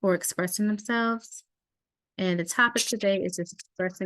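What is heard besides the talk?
None of the usual background noises is heard.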